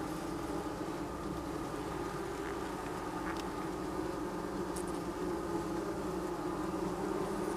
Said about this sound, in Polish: Dużo młodej pszczoły, zdrowej.